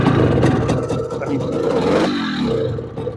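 Vintage 60cc two-stroke scooter engine catching after a kick-start, a loud, close, rough buzzing idle that wavers and dips midway, with a voice mixed in.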